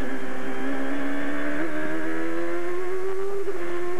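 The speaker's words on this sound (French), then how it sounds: "la voie arrière frappe des bosses, le moteur prend du régime, puis après ça remonte" An Indy race car engine at the 2006 Edmonton Molson Indy drones at high pitch, revving unevenly with brief stutters and dips as the rear wheels hit bumps, then climbing again, loud and steady with no voices.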